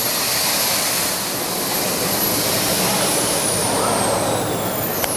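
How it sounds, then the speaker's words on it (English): Two small jet engines strapped to the hips as a jetpack booster, roaring with a loud, continuous, steady blast and a thin high whine running through it. "those are 2 jet engines strapped to my hips"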